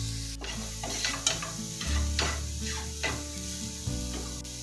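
Coriander powder sizzles and is stirred in a hot frying pan, a steady close crackle broken by repeated scraping strokes of the spoon, with no talking.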